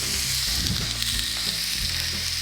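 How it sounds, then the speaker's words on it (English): Chicken sizzles steadily in a hot pan, a constant crackling hiss with occasional soft scraping of stirring close by. "There's the sizzle."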